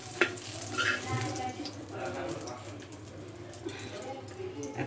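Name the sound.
eggplant frying in a pan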